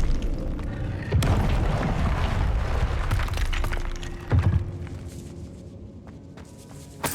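A Confringo fire spell explodes in Hogwarts Legacy with two deep booms, one early and one a few seconds later, each followed by a rumbling, crackling tail over a steady game backdrop.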